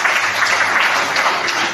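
A church congregation applauds the Lord, a dense, steady wash of clapping from many hands that holds at an even, loud level throughout.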